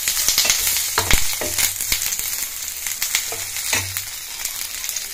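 Garlic and curry leaves fry in oil with a steady, close sizzle and scattered crackles and pops, with no voices over it.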